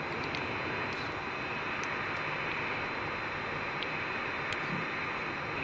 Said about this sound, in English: Let's start these engines.